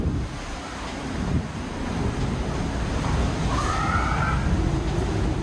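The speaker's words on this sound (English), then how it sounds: "It is fairly windy, so you may hear some wind noise when I head out here." Strong wind buffets the microphone in a constant low roar on a cruise ship balcony at sea, with the wash of sea waves beneath and no voices.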